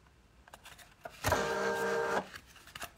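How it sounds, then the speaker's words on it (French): A Silhouette cutting machine finishing the cut of a paper gift box gives a steady motorized whir of about one second, with soft clicks and handling noises before and after. "Et j'attends que ma machine se termine, ma petite silhouette termine la découpe."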